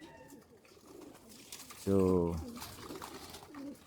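A pigeon at a racing pigeon loft gives one short, close, throaty coo midway, set against a low, busy background, with someone briefly speaking.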